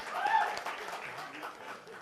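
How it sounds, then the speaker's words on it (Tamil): Soft, distant applause from a studio audience at a music talk show, a faint steady patter of clapping that fades slightly toward the end. "கைத்தட்டுங்கள்"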